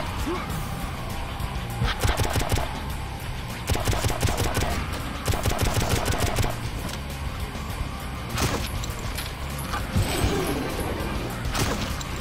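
Rapid gunfire from the first-person shooter Painkiller Black, with bursts of automatic shots and heavy impacts over game noise, loud and dense throughout.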